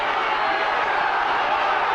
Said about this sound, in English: And the crowd suddenly voice their feelings